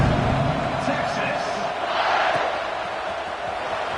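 Stadium crowd noise from the NCAA 25 college football video game, a steady broad roar with rising cheers at a kickoff after a scoring drive, continuous and fairly loud throughout.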